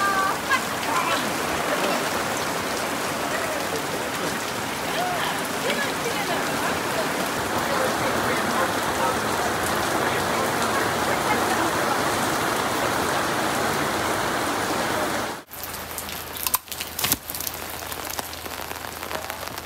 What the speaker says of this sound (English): Thunderstorm, lightning, and about 80 millimetres of rain forecast.